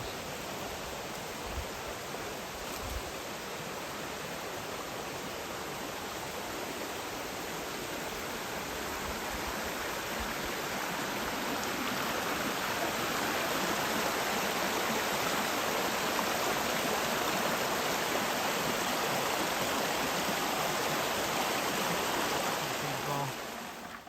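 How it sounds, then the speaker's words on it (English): Steady rushing stream water fills the scene, a continuous broadband wash that swells slightly louder partway through, with no voices. "I can hear all the water rushing from the tent."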